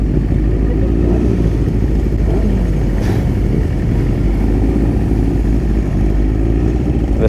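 Motorcycles at a charity bike run going past, a loud continuous rumble of mid-range engines with layered revving and passing bikes, close and steady throughout without talk.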